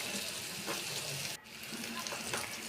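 Eggplant slices fry in a pan with a steady, close sizzle and crackle, briefly dipping as the pieces are turned, then hissing on evenly.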